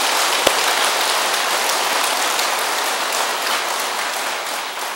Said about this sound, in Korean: 우리 박수 쳐야 돼요